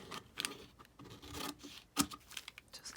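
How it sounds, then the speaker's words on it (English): Scissors snip and rasp through the corners of a brown paper bag, giving a few close, uneven cuts with papery scraping and crinkling between them and one sharper snip near the end. "I'm just gonna take it and cut the corners here"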